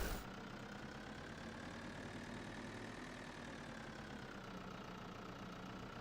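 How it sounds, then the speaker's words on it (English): A small tractor engine idles steadily in the Farming Simulator 2013 video game, a constant low rumble with a mid-range drone running unchanged and alone at a moderate level. "And we'll grab a tractor."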